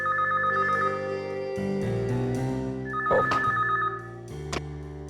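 A telephone rings in repeated electronic trill bursts, fairly loud and close, over a steady background hum with a few clatters.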